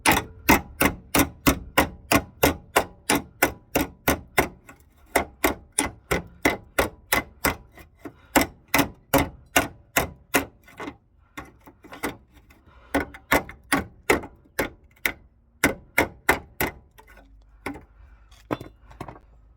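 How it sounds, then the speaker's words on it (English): Repeated sharp metallic hammer blows on a dolly flattening car body metal ring out in a steady, rapid rhythm, dozens of close strikes with brief pauses, slowing slightly toward the end. "I gotta get a hammer and dolly just to flatten this out a bit"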